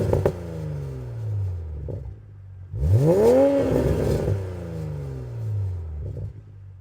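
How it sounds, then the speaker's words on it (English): A 2020 Toyota Supra 3.0 exhaust is revved several times from idle, each sweep rising to a loud, close snarl in the middle before falling back to a low, rumbling idle. "now let's listen to the exhaust sound on this thing"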